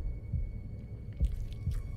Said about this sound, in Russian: О, сердцебиение.